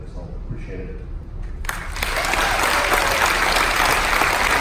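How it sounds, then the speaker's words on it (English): Audience applause at a military appreciation and veterans party aboard a Carnival cruise ship, swelling from a quiet start into sustained, dense clapping that fills the room and holds steady to the end. "How about another massive round of applause for our Air Force, everybody?"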